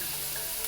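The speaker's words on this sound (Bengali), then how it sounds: "আলুটা ভাজতে ভাজতে দিয়ে দিচ্ছি অল্প পেঁয়াজ কুচি" Potato pieces frying in oil in a pan, a steady close sizzle with a bright hiss, brief and continuous with no voices.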